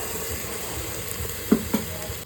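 Spice paste with turmeric and chili powder frying in a pan for masale bhat, a steady soft sizzle with two brief clinks of stirring near the end, and no voices.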